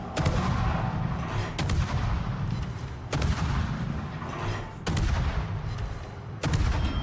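Naval gunfire in the World of Warships game, a destroyer battle, with heavy booming salvos repeating every second or two, each followed by a dense rumbling roar that fills the background continuously, loud and close, no voices.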